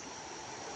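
River water rushes and gurgles in a steady, faint wash, with no other sound.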